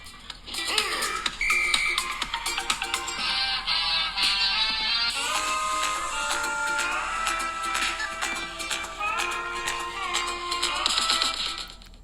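Music plays loud and full through the built-in speakers of a Samsung Galaxy S23 Ultra phone, continuous and bright for about twelve seconds with no talking.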